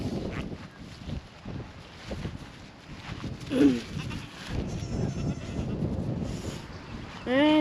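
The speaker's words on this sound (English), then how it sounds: "With the 2 new baby goats." Young goat kids bleating on a farm among other goats, a couple of short nasal cries rising above a busy, breezy background with livestock shuffling and faint voices.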